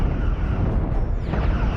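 A railgun blows apart in a broad, rumbling explosion in the Star Trek Cosmoteer video game, loud and continuous throughout with no voices.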